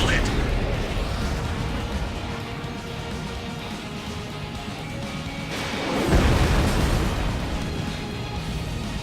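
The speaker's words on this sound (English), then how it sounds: "Missile hit." A missile strikes its target and explodes in the Ace Combat 7 flight game, with an A-10C Thunderbolt II in action, a heavy blast swelling out of a constant dense roar of jet and combat noise around the six-second mark.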